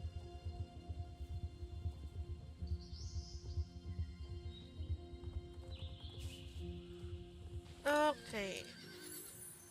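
A horse in the video game Star Stable trots with a steady clip-clop of hooves, then gives a loud whinny near the end, while a person talks quietly over it.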